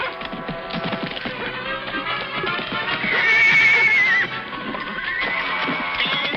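A horse neighs loudly in a long, shrill whinny, with hooves clattering and scuffling throughout, close by and busy.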